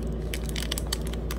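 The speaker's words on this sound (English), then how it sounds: "So let's open this first pack." Crinkly plastic foil of a Pokémon trading card pack tears open in several short crackling bursts, close up over a low steady hum.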